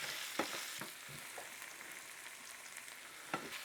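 Soaked potatoes fry quietly in a pan, a soft, even sizzle broken by a few sharp knocks of a utensil against the pan near the start and again near the end.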